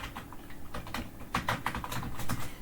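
Code being typed on a computer keyboard in Code::Blocks, a quick, uneven run of crisp key clicks and taps at close range with no voice.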